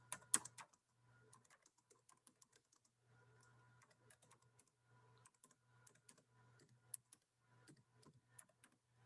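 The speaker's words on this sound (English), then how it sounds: "Hard for me to type fast when I'm on a laptop." Typing on a laptop keyboard, quiet close clicks in quick bursts separated by short pauses, with a low steady hum underneath and no talking.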